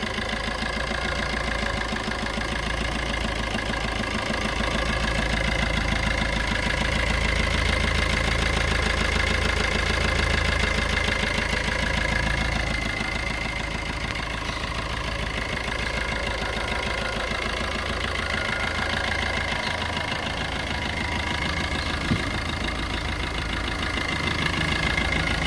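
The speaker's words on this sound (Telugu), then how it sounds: "సో ఇంజిన్ సౌండ్ అయితే ఈ విధంగా ఉందండి." A 2019 Suzuki S-Cross diesel car idles steadily with a continuous low rumble and faint knocking clatter, close by and alone, holding an even level throughout.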